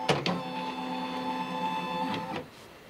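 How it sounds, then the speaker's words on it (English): A Baby Lock Altair sewing and embroidery machine drives its embroidery arm through calibration with a steady, whining motor hum of about two seconds. Mechanical clicks mark the start and the stop, and it is close and moderately quiet. "it's more of a warning that it's going to move this embroidery arm"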